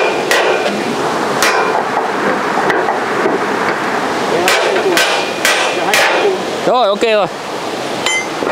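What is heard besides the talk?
hammer striking during bridge construction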